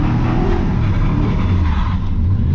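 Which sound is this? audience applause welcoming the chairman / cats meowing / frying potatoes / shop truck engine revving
shop truck engine revving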